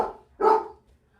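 A dog gives a single loud, close bark indoors after a fading earlier sound, followed by quiet.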